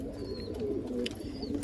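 Madrasi pigeons in a loft coo softly and briefly amid a quiet, steady background hum.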